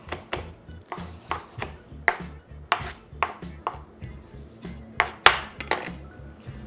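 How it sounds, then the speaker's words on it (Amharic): Tomatoes being chopped with a knife for a potato and bean salad, a steady run of sharp, close blade strikes on a cutting board with irregular rhythm and no talk. "በዚህ መልክ እንደዚህ አድርገን ቲማቲሙን ከትፈዋለን።"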